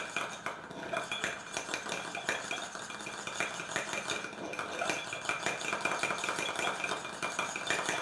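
Eyeliner ingredients stirred vigorously in a small pot, a steady close clatter of utensil against container with fast, busy scraping and clinking throughout.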